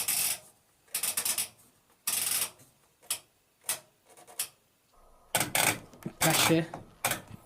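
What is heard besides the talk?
old washing machine program selector dial being turned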